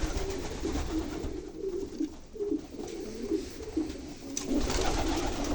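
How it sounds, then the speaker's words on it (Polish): Several domestic breeding pigeons coo steadily nearby, their soft, throaty calls overlapping and repeating against a quiet background hum. "Patrzcie ile tutaj jest jeszcze gołębi."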